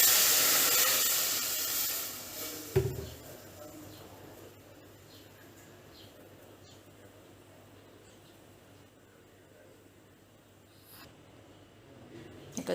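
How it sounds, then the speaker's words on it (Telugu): A little water is poured into a hot kadai while making gongura chutney, giving a loud hissing sizzle at first that quickly fades to a quiet simmer. "కళాయిలో కొద్దిగా వాటర్ పోసుకుందామండి."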